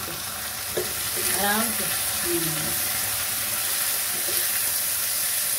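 Tomatoes hit a hot pan of frying food in a home kitchen, giving a steady loud sizzle with stirring scrapes, while someone speaks briefly over it.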